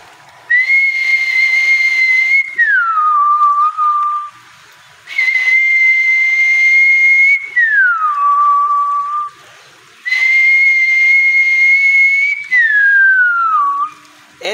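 A man whistles an imitation of a small bhijo bird's call: three long, loud high steady tones, each gliding down at the end, separated by short silences.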